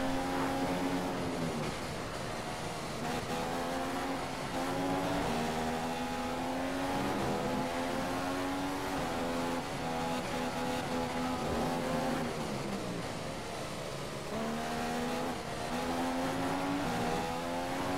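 A Formula 1 race car engine in the F1 2015 video game at the Bahrain Grand Prix, screaming at high revs with pitch rising and dipping through gear changes, loud and continuous.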